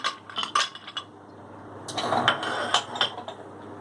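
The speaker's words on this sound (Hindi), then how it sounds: "आइस क्यूब्स ऐड करेंगे।" Ice cubes dropped into a glass of peach lemonade, a quick run of bright clinks and knocks followed by a denser cluster of rattling clinks, close and fairly quiet.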